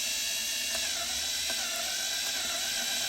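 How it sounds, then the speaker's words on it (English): A power drill bores screw holes into wooden boards for a bird feeder, a steady high-pitched whine held continuously and fairly close, with faint ticks along the way. "Drill."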